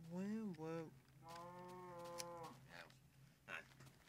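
A cow in the Minecraft video game moos several times, with a short pitched call followed by a longer drawn-out low moo, clear and close, then softer rustling noises afterward.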